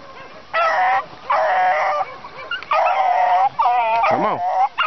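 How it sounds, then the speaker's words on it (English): Beagle hounds bay in long, wavering howls while chasing a rabbit outdoors, several overlapping loud voices in repeated bursts with short gaps between. "Old dog I got from the preacher, Belle, she's really running good with my dogs here."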